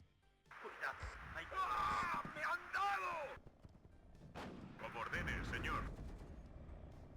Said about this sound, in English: Now we have to shell it to the ground. Let's use our mortars here.